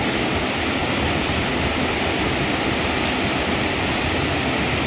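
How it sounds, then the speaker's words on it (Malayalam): Athirappilly Falls in Thrissur roars in a steady, dense wash of noise, loud and continuous, with no voices. "വെള്ളം കലങ്ങി പതിഞ്ഞൊക്കെ വന്ന് ചാടുന്നുണ്ട്"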